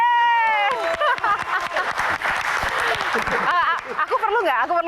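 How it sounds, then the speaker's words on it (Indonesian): A studio audience breaks into applause at an Indonesian music talk show welcoming two legendary female rock singers, a dense, sustained clatter of clapping that swells over a few seconds, with voices and cheers mixed in. "Tepuk tangan."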